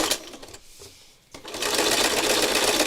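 Domestic sewing machine stitching in steady rapid bursts, briefly pausing then resuming louder, close by with no talk.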